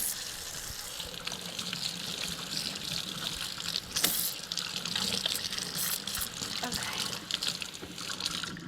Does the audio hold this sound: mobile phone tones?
no